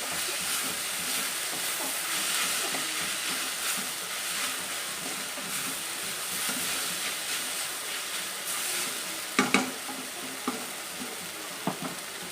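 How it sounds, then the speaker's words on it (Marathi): Tomatoes and green chilies fry in a pan with a bright, continuous sizzle, joined near the end by a few sharp clinks of a spoon against the pan; no one speaks. "टमाटर भाजून व्यवस्थित गळून झालेलं आहे"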